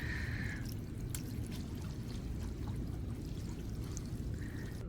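Bucket water pours onto permeable pavement outdoors in a steady, even rush that continues for several seconds, with faint splashy detail on top and no voices.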